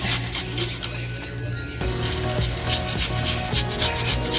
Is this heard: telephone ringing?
no